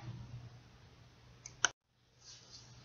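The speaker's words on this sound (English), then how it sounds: "select the company, CH1. Kristen Reyna Interior Designs .qbw and click Open" A computer mouse click as a QuickBooks company file is opened, heard as a couple of quick, faint clicks over low room hum, followed by a brief drop to silence.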